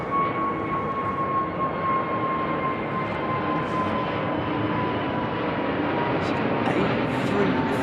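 A Virgin Atlantic Airbus A330-900 climbs out of London Heathrow overhead, its jet engines a loud, steady roar with a faint whining tone, heard up close for the whole stretch while someone talks over it.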